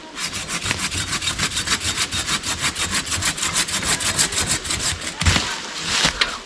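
Hand saw cutting wood outdoors in a forest while building a dugout shelter: rapid, even back-and-forth rasping strokes, loud and close, keeping a steady rhythm before a few rougher final strokes.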